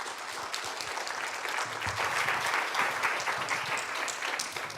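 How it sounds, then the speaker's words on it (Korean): An audience at a Korean presbytery camp seminar claps to welcome a pastor speaker, an even, moderately distant round of many hands that holds steady for several seconds. "1강 때보다 2강 때보다 더 큰 박수로 우리 강사 목사님 모시겠습니다."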